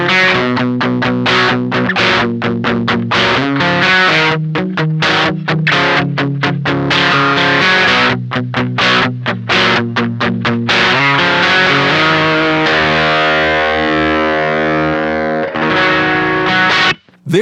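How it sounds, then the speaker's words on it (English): Electric guitar driven through a Beetronics Abelha overdrive pedal set to honey mode, playing loud, smooth distorted staccato chords in a rapid choppy rhythm before settling into longer sustained ringing notes, alone with no voices. "we get into more of an overdrive sound in the honey mode, which lives on the right side of the mode toggle."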